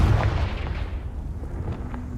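A Confringo blast spell from the Hogwarts Legacy video game erupts as a loud, deep booming burst, then rumbles and decays in a low tail for about two seconds, with no voices.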